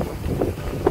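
Steady wind rumbles across the microphone outdoors at a lake in Glacier National Park, a low continuous buffeting with a couple of brief gusts, no voices.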